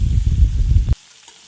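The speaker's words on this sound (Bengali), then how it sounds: "এবার এটা তেলের মধ্যে চেড়ে ভালো করে ভেজে নিতে হবে" Green jackfruit pieces frying in oil, a loud close crackling sizzle that cuts off abruptly partway through, leaving near silence, no talking.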